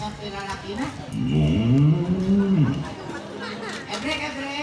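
A man imitating a bull mooing, a drawn-out low vocal moo rising and falling over about a second and a half, amid chatter and talk from others nearby.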